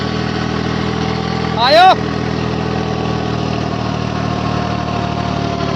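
A Swaraj 3630 Rocket tractor with a rotavator runs in a steady, loud diesel drone that holds close and constant. A brief rising and falling whine cuts in partway through, and a voice speaks once over the engine.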